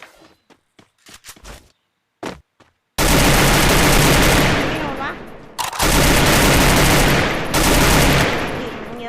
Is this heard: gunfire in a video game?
yes